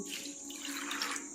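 A short, steady splash of water pouring into a pressure cooker with white peas, close by and fairly quiet.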